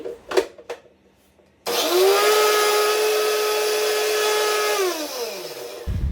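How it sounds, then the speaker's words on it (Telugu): A kitchen mixer grinder blending spinach whirs loudly at a steady high pitch after a few quiet clicks, then winds down as the motor stops. "పాలకూరను నీట్గా వాష్ చేసుకొని మనకు కావాల్సినంత తీసుకొని మిక్సీ జార్లో వేసుకొని"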